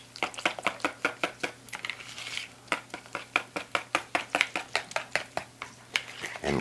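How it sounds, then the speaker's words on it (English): Rapid rhythmic clinking of a whisk against a bowl while the ingredients for a homemade ranch dressing are mixed, a steady run of sharp close taps with no one talking. "So now I'm going to whisk this all up."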